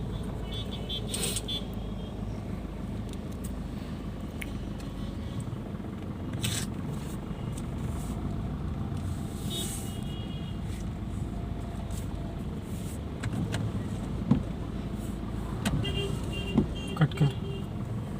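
A car drives along a road on a long drive, its engine and road noise running as a steady wash, with a few short horn toots and scrapes near the end and no talk.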